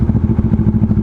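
Big bike motorcycle engine idling close by in tollgate traffic on Cavitex, a loud steady rumble with rapid pulsing throb and light mechanical clatter, no talk.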